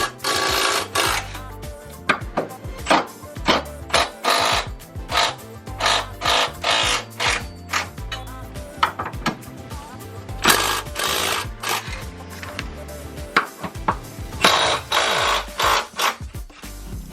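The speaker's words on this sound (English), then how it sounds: "We're gonna go around and break all 4 of them free. It's a 19mm socket" Repeated bursts of an impact wrench or ratchet loosening 19mm lug bolts on a Subaru Crosstrek, rapid buzzing rattles in short clustered bursts with brief pauses, loud and close, no talk.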